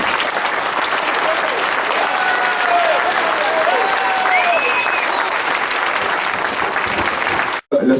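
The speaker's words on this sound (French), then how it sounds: "je pense qu'on peut les applaudir encore une fois." A crowd gives the football club's players a sustained round of applause, dense steady clapping for about seven seconds before it cuts off abruptly, with faint voices mixed in.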